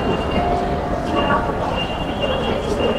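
A metro train at a station, giving a steady, fairly loud rumble with thin high whining tones drifting over it for the whole stretch.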